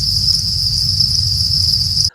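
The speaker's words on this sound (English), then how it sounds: "The male crickets do all the chirping." Steady, high-pitched chirping of male crickets, loud and continuous over a low rumble, cutting off abruptly at the end.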